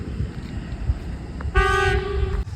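A test train blares a loud, steady horn for about a second, rising over low rumbling outdoor background noise and cutting off abruptly.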